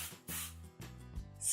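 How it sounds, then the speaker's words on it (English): Several short hissing bursts of volume hairspray from an aerosol can, close up, with brief pauses between sprays and a final burst at the end. "I'm gonna use my Kendra Volume Spray"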